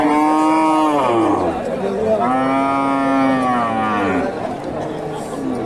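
A cow moos twice in long, low drawn-out calls, close by, at a cattle market in Bogura, Bangladesh, with people chattering in the background.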